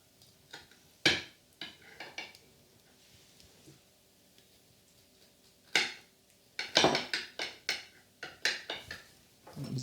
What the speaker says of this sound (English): Use the other knife just to slice it.